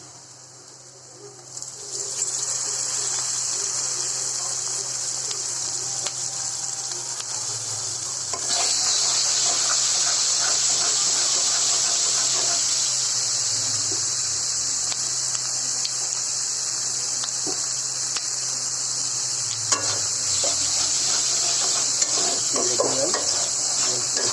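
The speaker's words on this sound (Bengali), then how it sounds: "আদা রসুনটা দিয়ে দেবো এখন" Ginger and garlic paste frying in a pan, a loud, steady sizzle that starts within seconds and swells further partway through, with occasional scraping stirs and utensil clinks and faint bird calls in the background, no talking.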